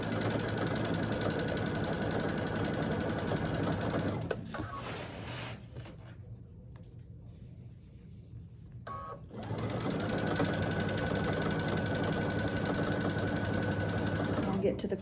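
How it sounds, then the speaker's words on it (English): A sewing machine stitches fabric for a pumpkin door hanger, running steadily and close for about four seconds, pausing for several seconds, then whirring again continuously to the end, with no talking. "And then I'm going to sew this side the same way I did the other side."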